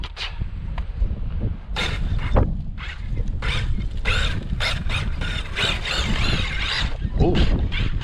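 A Traxxas X-Maxx RC truck with a 1600kv motor squeals its front tires in repeated sharp, loud bursts over a rough mechanical rumble, with brief gaps between spins.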